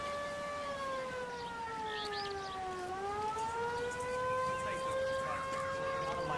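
A wailing ambulance siren in the video game L.A. Noire, a steady rising and falling tone that persists throughout, with voices talking underneath.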